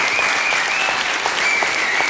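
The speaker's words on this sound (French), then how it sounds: "On t'applaudit quand même très très fort" Studio audience applause on a French TV game show, a dense, steady wash of clapping held at full level for two seconds with no talk over it.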